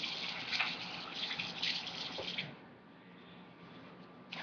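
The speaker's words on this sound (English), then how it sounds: "Secondly, I want to wash my hands." Kitchen tap water runs in a steady close hiss as hands are washed beneath it, with small splashes in the first half, after which the flow continues more softly.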